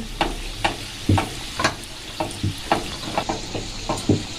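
A Mughlai paratha fries in hot oil while oil is spooned over its top, a close sizzle broken by regular splashing pulses about twice a second.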